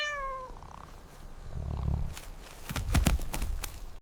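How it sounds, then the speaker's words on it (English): A cat gives a short, clear meow, then a low, rumbling purr follows with soft rustling and a few sharp clicks, close to the microphone. "the cat meow and the purring"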